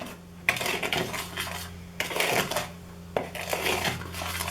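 Homemade play-dough ingredients are stirred together in a bowl, making three bursts of scraping, clinking mixing with brief pauses between them, close and moderately loud.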